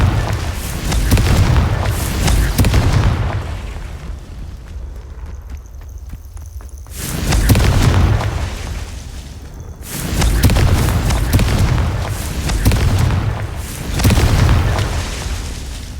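Repeated Confringo fire-spell explosions from the Hogwarts Legacy video game, loud booming blasts recurring roughly every few seconds with a brief quieter gap between bursts.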